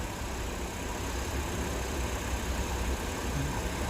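A DC servomotor on a feedback trainer runs continuously, settling toward its set speed, with a steady low rumbling hum at moderate level and no noticeable changes or voices.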